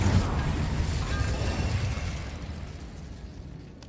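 An Incendio fire spell cast in Hogwarts Legacy bursts with a loud whooshing blast up front, then fades into a rumbling, crackling tail.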